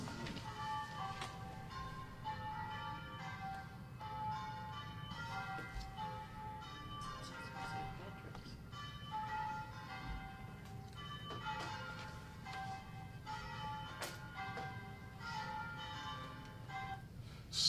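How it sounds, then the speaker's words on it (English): Church bells in the UK peal in a continuous stream of overlapping tolls with a steady bright rhythm, ringing moderately loud and slightly distant throughout. "This is the church bells."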